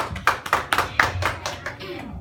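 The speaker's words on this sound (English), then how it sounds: "Let's give a round of applause to Lux Luthor." Scattered clapping from a small audience at a skit, about eight distinct, uneven claps in quick succession rather than a full ovation, close and fairly loud with some voices mixed in.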